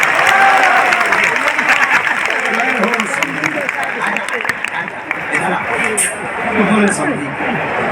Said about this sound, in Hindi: एक बार ताली बजाओ समझी को।